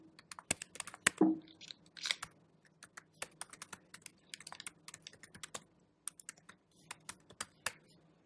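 Fingers tap out a command on a computer keyboard, a quiet, close run of irregular clicks with brief pauses between bursts of keystrokes and one louder clack near the start.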